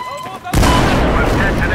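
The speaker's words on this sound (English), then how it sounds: "No, that's just an explosion." Loud, sudden explosion in the Battlefield 4 video game, a broadband blast that bursts in after a brief moment of quieter game sound and rumbles on in a sustained roar with crackling debris.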